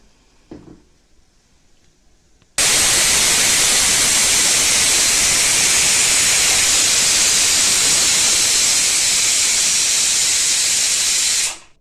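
A pressure cooker cooking undhiyu lets out a loud, continuous hissing whistle of steam that starts abruptly after a quiet moment and holds for about nine seconds before cutting off.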